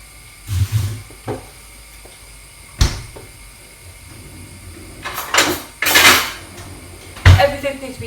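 Pans, dishes and cutlery clatter in a home kitchen during fish pie cooking, several sharp clanks and rattles in irregular bursts, loudest near the end.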